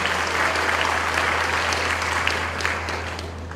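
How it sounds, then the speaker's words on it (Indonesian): Audience applause for a university rector and his staff at a Ma Chung University graduation ceremony, a dense, steady clapping that holds at full strength throughout and eases slightly at the end. "Kita beri tepuk tangan dulu Bapak Rektor dan segenap jajarannya"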